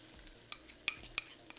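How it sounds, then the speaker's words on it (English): Sauce hisses with a soft sizzle as it hits Korean fried chicken in a pan, broken by a few sharp clinks and scrapes of tossing. "Do you hear that? That sizzle."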